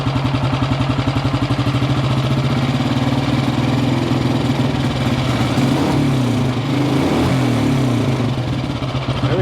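An ATV engine with a newly fitted carburetor runs loud and close, revving steadily and buzzing with a rough, even drone throughout, alone without talk.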